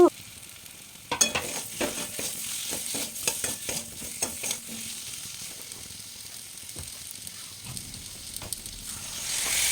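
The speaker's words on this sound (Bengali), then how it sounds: "লঙ্কা গুঁড়ো হলুদ গুঁড়ো জিরে গুঁড়ো দিয়ে দেবো পরিমাণ মতো দিয়ে ভালো করে কষিয়ে নিন" Chili, turmeric and cumin powder being sautéed in a frying pan for a Bengali snakehead fish curry, with steady soft sizzling and repeated scraping stirs throughout, no voices.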